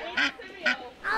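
Ducks being fed dry cereal quack in two loud, separate bursts with a third call starting at the end, each heard close up over a quiet outdoor background.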